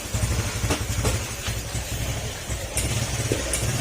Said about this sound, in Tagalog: kung mapapansin nyo yung tunog ng motor or yung makina